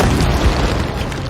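A loud, rumbling explosion from a BM-21 rocket strike in a war film battle with Taliban fighters fills the moment, a dense close boom with no voices.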